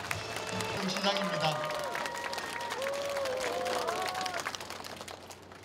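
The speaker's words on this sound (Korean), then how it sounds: "여러분 큰 박수로 축하해 주십시오." Audience at a Daegu city neighborhood leaders' association gathering applauds an award plaque presentation; a continuous wash of clapping runs throughout while someone speaks over it.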